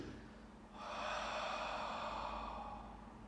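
A single long, breathy exhale during an abdominal breathing exercise, a soft close rush of air that swells and slowly fades over a couple of seconds.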